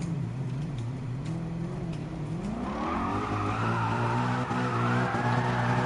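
A car in Gran Turismo Sport skids through a handbrake turn, a loud sustained tire squeal sliding in pitch over a steady engine drone, rising into a strong screech midway and holding to the end.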